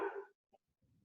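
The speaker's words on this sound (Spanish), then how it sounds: "Hay un perrito ahí." A small dog gives one short, close bark, followed by faint soft yips and a low whimpering sound.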